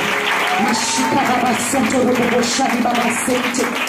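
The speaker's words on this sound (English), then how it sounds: "Just give them a round of applause." A church congregation applauds at a worship service, a dense wash of clapping and cheering under a voice singing or speaking over it.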